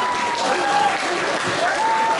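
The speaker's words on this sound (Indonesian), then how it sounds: "Sekali tepuk tangan untuk Alicia." Audience applause after a student speech about caring for the Earth, a steady wash of many hands clapping at moderate distance, continuous throughout with a faint tone running beneath it.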